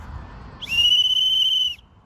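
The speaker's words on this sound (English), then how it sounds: "let me blow my whistle" A single shrill whistle blast held steady for about a second, loud and close, then cut off, at a metal detecting championship event outdoors.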